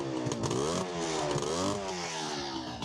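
A motorcycle engine, set on prime to force more fuel through the carbs, runs with a steady throbbing idle that rises and falls in a couple of revs, close by and continuous with no talking.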